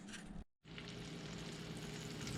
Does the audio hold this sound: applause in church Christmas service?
no